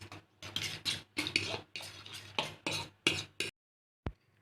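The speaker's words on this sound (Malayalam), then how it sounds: "ഇനി ഇതെല്ലാം കൂടെ നമുക്ക് നന്നായിട്ടൊന്ന് മിക്സ് ചെയ്യാം." Breakfast ingredients mixed with salt in a bowl, a quick run of scraping and stirring strokes, about eight close bursts in steady rhythm, then a pause and one final clink.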